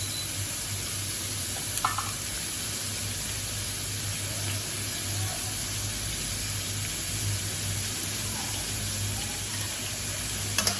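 Mutton with onion and salt sizzles and fries in a pan for mutton rezala, a steady, even hiss throughout with a faint stir or scrape now and then, no voices.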